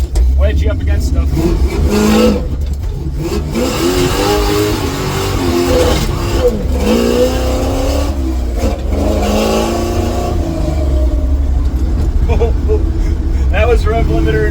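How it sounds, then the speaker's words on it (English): A 1955 GMC truck engine revs hard in first gear up to the rev limiter, a loud, close, sustained engine roar that rises and falls, with people talking over it. "That was rev limiter in first with no axle wrap."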